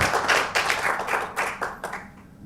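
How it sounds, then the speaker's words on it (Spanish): Audience applause closing a panel at a climate dialogue results presentation, a short run of fairly close, rhythmic clapping from a small group, easing off at the end. "les pido un aplauso para que despidamos y cerremos este espacio panel"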